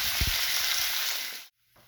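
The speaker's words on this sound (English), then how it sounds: "Here's you some complimentary bacon sizzle action." Loud, steady sizzling of bacon frying on a hot Steelmade griddle with crackling pops, cutting off abruptly near the end into near silence.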